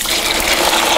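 Brine solution poured into a cooler holding a little ice for a turkey, a steady close gushing splash of liquid filling the container, continuous and fairly loud with no voices.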